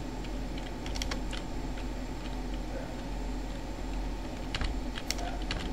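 Someone types Arduino motor-control code on a computer keyboard, producing rapid, even key clicks at close range over a faint steady hum, with no speech.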